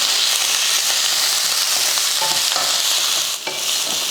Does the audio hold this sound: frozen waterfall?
no